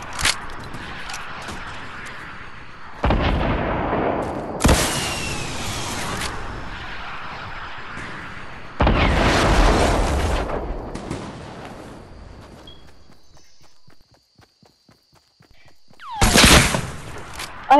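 Gunfire and blasts in a Fortnite match: loud bursts of shots and booming explosions come in separate heavy clusters, with quiet gaps between, nearby and forceful.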